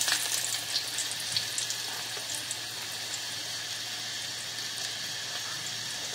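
Garlic cloves frying in hot oil give a loud, steady sizzle close by, a constant hiss with scattered small pops and no voices.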